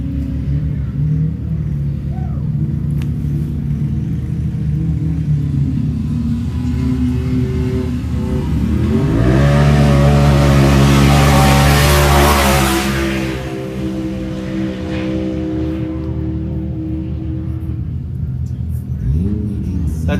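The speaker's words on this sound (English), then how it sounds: "That's Nate Thompson in a 2022 Razor Turbo R of Harrisburg, South Dakota." A 2022 Razor Turbo R off-road race vehicle at a high-desert race in Powell, Wyoming, rumbles past with its engine rising to a loud, close revving peak midway, then fading, under a continuous announcer's voice.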